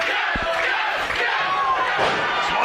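A wrestling crowd at a UPW tag team match roars steadily throughout, loud and sustained, with a couple of low thumps early on.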